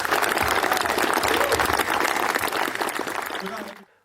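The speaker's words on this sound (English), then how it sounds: "give Andy and Robert a big round of applause for organising this event" Crowd at a Blackpool Pleasure Beach gathering giving the event organisers a round of applause, loud close clapping mixed with some voices that fades out at the end.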